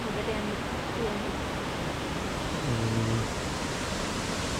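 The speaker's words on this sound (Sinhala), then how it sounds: "ඩන්සිලන් ඇල්ල" Dunsinan waterfall, a branch of the Mahaweli river, gives a constant, dense hiss of rushing water, with a brief voice faintly heard under the roar.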